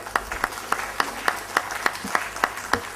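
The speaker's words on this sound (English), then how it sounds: "Let's give Dr. O.P. Sharma a big round of applause." An audience at a tribute event applauds with even, rhythmic clapping, sharp claps repeating about three times a second in a sustained round.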